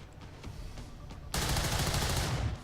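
Gunfire in the tactical game XCOM 2: after a quiet stretch, a sudden loud burst of rapid automatic shots rattles on for over a second, close and sharp, with no talking.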